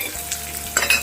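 Onions hit hot oil for a tadka on a high flame, giving a short burst of sizzling with light stirring scrapes that swell louder toward the end.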